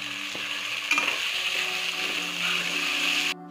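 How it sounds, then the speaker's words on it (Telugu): Tomato masala with a handful of mint and coriander being stirred in a pan for chicken biryani, giving a steady sizzle with scraping spoon strokes, close and continuous, cutting off abruptly near the end. "ఇది ఒకసారి బాగా మిక్స్ చేసుకోవాలి"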